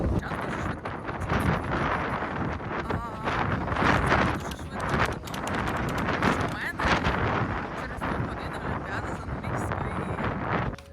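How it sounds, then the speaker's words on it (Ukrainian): Steady, heavy wind buffeting the microphone, a constant roaring rumble that never lets up across the whole stretch. "тут такий вітер, що мене не буде чутно просто"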